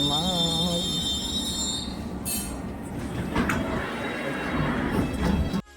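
Train running along rails, a steady rumbling roar with rattles and a brief squeal of wheels, close and continuous throughout before cutting off at the end.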